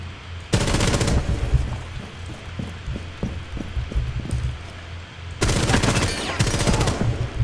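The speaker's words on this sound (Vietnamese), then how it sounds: "Và cái đó này mình bắn có thể bắn từ dưới chân" In Tom Clancy's Rainbow Six Siege, automatic rifle fire aimed up from the floor below comes as two loud, rapid bursts with a run of scattered single shots and footstep-like thuds between them.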